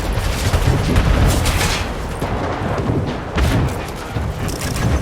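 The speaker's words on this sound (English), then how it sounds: "Sorry, I say canister shot, sorry, it is a mortar." Mortar fire in the strategy game Anno 1800, a dense rumbling barrage of overlapping booms and thuds that swells and ebbs without pause.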